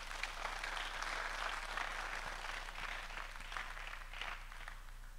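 A church congregation at a pastor's blessing service applauding together, a dense, sustained wash of clapping that lasts the whole stretch, heard from within the hall.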